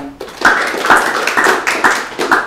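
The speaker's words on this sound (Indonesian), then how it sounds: "Tepuk tangan dong." Loud, close clapping from a small audience at an IPDN drum corps gathering, short bursts of claps in an uneven rhythm lasting a couple of seconds.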